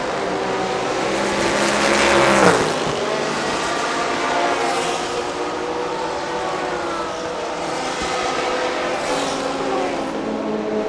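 An Audi race car drives on a circuit during a TSS 2019 race, its engine a sustained high whine rising and falling through gear changes, with a louder surge early on, over steady track ambience.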